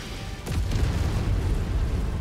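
Artillery fire in the Mechwarrior 5 video game lands as a heavy, booming explosion with a sudden onset and a deep rumble that sustains, loud and close.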